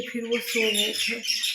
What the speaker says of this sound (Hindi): बीच में चिड़िया बोल रही है ना